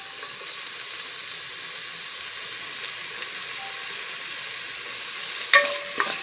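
Tomatoes sautéing in a pan for chicken biryani, a steady close sizzle with light stirring scrapes and a couple of sharp utensil clicks near the end.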